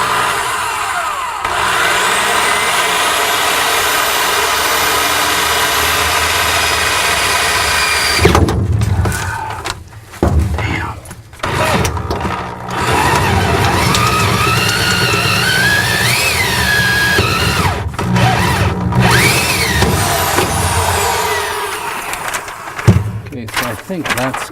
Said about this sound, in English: I got a little bit smaller drill bit. Go ahead and put one right here.